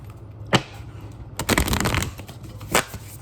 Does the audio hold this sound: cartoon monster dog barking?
no